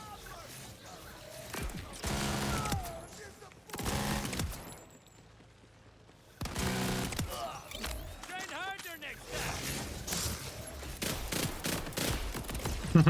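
Bursts of rapid gunfire from Borderlands 4, loud clusters of shots separated by brief quiet gaps, with game effects and voices mixed in.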